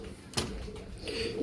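Pigeons in a breeding loft, including a Salada pigeon and a Dubai hen among pairs raising young, giving a soft low coo close by with a brief sharp knock early on.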